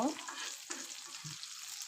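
Pieces of pangas fish fry in a pan of hot oil with a steady, soft sizzle, and a couple of faint knocks sound along with it.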